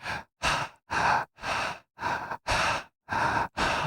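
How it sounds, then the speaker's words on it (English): A singer packs the lungs with deep, close breaths in and out, eight distinct airy pulses at an even rhythm separated by short silences, with no talk. "I'm going to just get up at the top of that gasp and breathe in and out."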